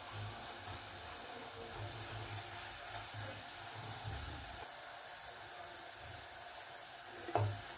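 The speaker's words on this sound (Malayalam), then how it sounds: "ഇങ്ങനെ ഇളക്കി കൊടുക്കുക. നല്ല ഫ്രൈ ആയിട്ട് വരുന്നുണ്ട്." Onion pakoda deep frying in hot oil, with a steady, moderately loud sizzle throughout and a single brief knock near the end as the fritters are stirred.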